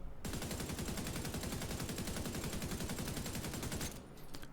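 Rapid automatic assault rifle fire in The Division 2 rattles on continuously for nearly four seconds, a dense even stream of shots, then stops.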